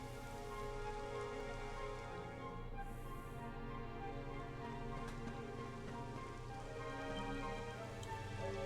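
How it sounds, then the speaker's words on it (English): Steady rain in a Dragon Quest XI game scene patters across a surface, a soft constant hiss of drops with no voices, holding even throughout. "It would have to go and start raining, wouldn't it?"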